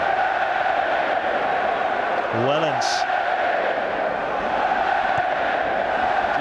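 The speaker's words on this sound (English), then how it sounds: "when fans do that cheering, you don't want to be the player that gives the ball away" Leicester City supporters roar steadily through a stadium during a 2011 FA Cup third-round match against Manchester City, a dense, sustained crowd noise with a commentator talking over it.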